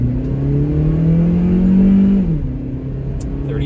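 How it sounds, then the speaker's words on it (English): A 2010 Honda Civic Value Package accelerating hard toward 60 mph on a private road, its engine droning loud and steadily rising in pitch, then dropping sharply at a gear change before pulling on again. "I'm gonna give it the beans here."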